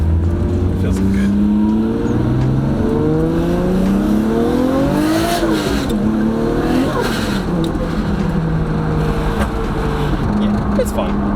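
A hand-controlled Nissan Skyline R32 making about 409 wheel horsepower roars loud and close, its engine climbing through repeated revs and gear changes as it drives under a constant rumble.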